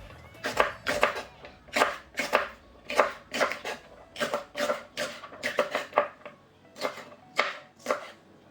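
Steady knife chopping of green onions on a cutting board, about two crisp strikes per second, close up and clear, with no talking.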